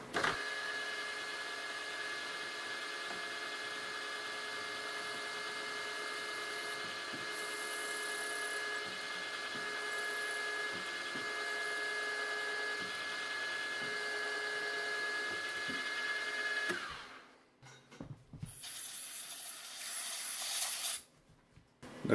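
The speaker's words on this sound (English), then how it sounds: "Solid carbide drill running at 1000 RPM dry." A steady high-pitched whine of a solid carbide drill running dry at 1000 RPM, boring into a steel bearing ball continuously for a long stretch, then it stops abruptly with a few quieter clicks and rattles.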